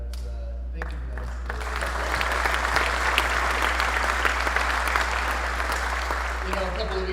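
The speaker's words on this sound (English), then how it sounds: "can we get a round of applause for Chaplain Simowski?" Audience applause for a chaplain at a military squadron change of command ceremony, rising after a moment into sustained, even clapping from a sizable crowd. A low steady hum runs underneath the applause.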